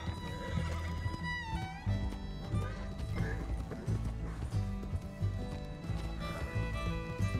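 A horse gallops and neighs in Red Dead Redemption 2, with rapid hoofbeats and loud whinnies running throughout over a dense game soundtrack and effects.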